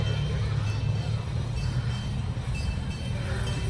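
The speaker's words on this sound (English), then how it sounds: "There's a train pulling into the station over here, if you can hear that bell." A steady, low rumble of a train pulling into a station at a zoo rolls on throughout, with a constant hum and no clear breaks, heard from some distance.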